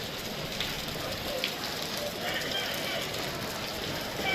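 Steady rain falling outdoors in Khanpur, a dense continuous patter and hiss that holds evenly for the whole stretch, with no clear voices over it.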